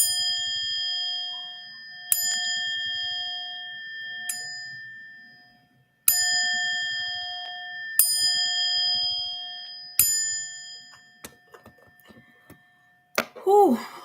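Ringing bell tones struck in a grounding sound-healing session, five clear strikes roughly every two seconds, each sustaining and slowly fading, with a shorter flurry of chimes near the end; faint quiet speech murmurs underneath.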